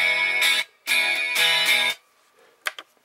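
Distorted electric guitar through a Digitech RP90/RP70 chorus-with-distortion preset, with a swirling chorus effect, three loud sustained chords with short gaps, then a few faint scraping notes.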